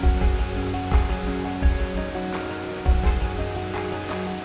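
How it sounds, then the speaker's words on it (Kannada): A mountain stream (jhari) in a forested ghat section near Kemmannugundi hills, rushing steadily and close by, its broad continuous wash broken by a few louder surges, with no voices over it. "ಇನ್ ಬಿಟ್ವೀನ್ ನಮಗೆ ಸಿಕ್ಕಂಥ ಒಂದು ಝರಿ ಇದು."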